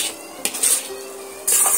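A utensil stirs egg omelette curry in a cooking pan, giving a few sharp metal clinks and scrapes, with brief louder knocks near the start and end over a quiet background.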